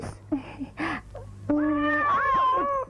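A cat meows in a drawn-out, wavering cry that follows a few short vocal sounds, close and fairly loud over a steady low hum.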